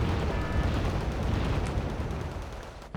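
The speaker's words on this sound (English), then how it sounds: "See, they're already mortaring this area." Mortar fire lands in a Wargame: Red Dragon battle as a dense, rumbling roar of blasts, loud and continuous for a few seconds before easing off, with no talk over it.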